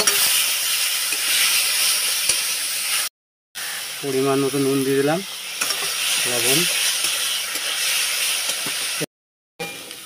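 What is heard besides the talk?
chicken being sautéed in a pan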